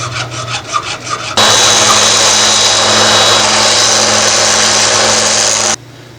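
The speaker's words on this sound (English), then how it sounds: "cut off with your hacksaw" A hacksaw cuts through a PVC grip tube in steady, loud back-and-forth strokes that run continuously for several seconds before stopping abruptly, with no talking.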